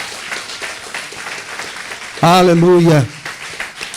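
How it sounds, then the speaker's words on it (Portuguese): A church congregation applauds God with steady clapping throughout, briefly topped by a loud voice calling out. "Vamos aplaudir o Deus Todo-Poderoso."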